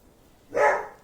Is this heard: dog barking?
yes